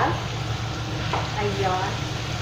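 Onions stirred and sautéed in a pan for pork dinuguan, a steady close sizzle with soft scraping from the stirring throughout.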